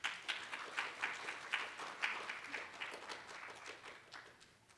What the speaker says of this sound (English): let's give a warm round of applause to Finn.